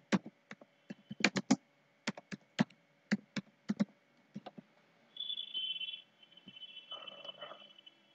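Someone types a name on a computer keyboard, producing quiet separate key clicks in short uneven runs. A brief electronic tone and a soft hum follow near the end, with no speech.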